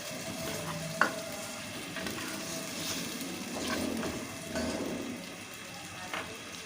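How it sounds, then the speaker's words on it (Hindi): Meat fries in a pan with garlic-ginger paste, a close, steady sizzle broken by scraping stirs and occasional sharp clacks of a spoon against the pan. "लहसुन अदरक डालने के बाद इसको 2 मिनट के या 5 मिनट के लिए अच्छी तरीके से फ्राई कर लें"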